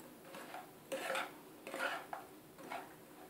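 Coriander panjiri with raisins and green cardamom powder being stirred in a pan, soft scraping strokes in uneven bursts of a spoon working through the dry mixture, quiet and close.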